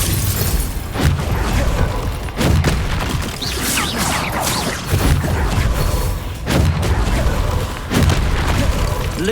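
Confringo spell explosions in Hogwarts Legacy combat: repeated loud blasts and crackling bursts come every couple of seconds over continuous battle noise, mixed with shouted spell casts.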